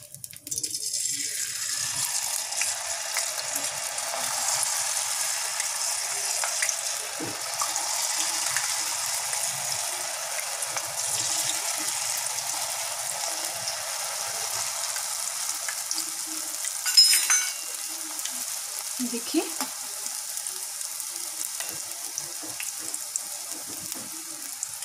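Jalebi batter frying in hot ghee over a medium flame, a steady bright crackling sizzle that runs throughout with a few faint utensil clinks.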